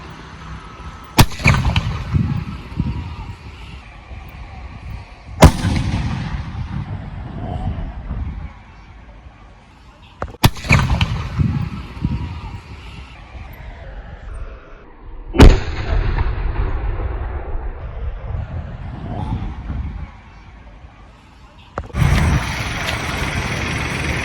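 Maan Fireworks lavender and blue colour shots fire four sharp, loud bangs several seconds apart. Each bang is followed by a crackling, rumbling decay, and a voice is heard in the background.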